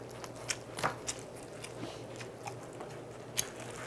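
Eating rice with kielbasa sausage and pickled young radish kimchi up close, a few crisp bites and crunches spaced over steady chewing, with no one speaking.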